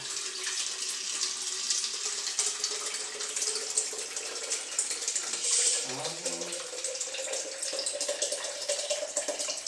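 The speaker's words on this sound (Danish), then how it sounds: "Og nu hælder jeg 1 liter vand i her." One liter of water is poured from a measuring jug into a LifeStraw filter container, making a steady, continuous splashing rush close by that holds for nearly ten seconds, with a brief gurgle partway through.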